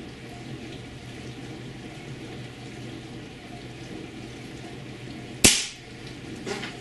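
Air Arms S410F Super Lite .22 caliber PCP precision air rifle fires a single sharp crack partway through, with a brief trailing echo and a faint second click afterward, over quiet outdoor background.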